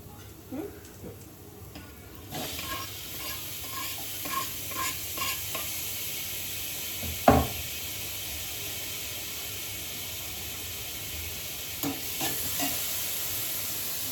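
Tomatoes stirred in a hot pan, a continuous sizzling hiss with a series of soft scraping stir strokes and one sharp clatter midway, close and fairly quiet.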